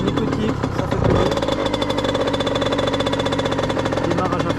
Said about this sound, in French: Démarrage à froid.